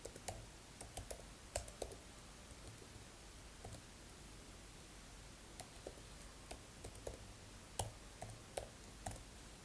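Someone types in a terminal on an M1 MacBook keyboard, producing faint, sparse key clicks in irregular bursts over a steady background hiss.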